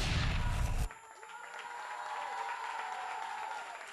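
A loud burst of crowd noise cuts off abruptly, leaving a softer wash of audience applause and murmur that continues at a distance.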